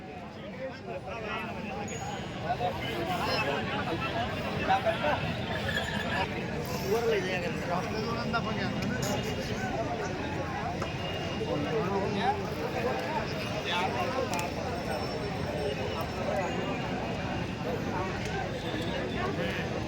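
A large, busy weekly bull and cattle market in Varkhedi, North Maharashtra, heard as a dense wash of many overlapping voices and crowd murmur, steady and moderately loud with no single sound standing out.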